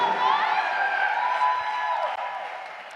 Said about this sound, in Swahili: Piga Yesu makofi na vigelegele na shangwe kubwa kabisa.